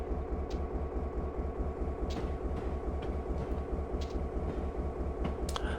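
A freight locomotive in Train Simulator 2020 on the Norfolk Southern N-Line runs with a steady low rumbling drone and rhythmic mechanical churn, punctuated by faint clicks and brief higher squeaks, with no talk.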